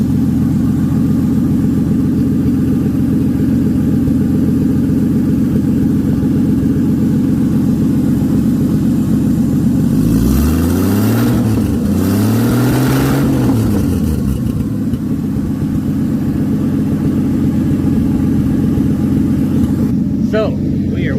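Car engine with no exhaust running close and loud at a steady rumbling idle, revved twice in quick succession midway before settling back to idle.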